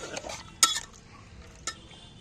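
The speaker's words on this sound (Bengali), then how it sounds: "এবার আমি এই নুন আর লঙ্কা, এর মধ্যে আর কিছু না, দেখো ভালো করে ভেজে দিচ্ছি।" Salt and chili are stirred in a hot pan for a mutton dish. A spoon scrapes and clinks against the metal in a few sharp, close strokes over a soft background.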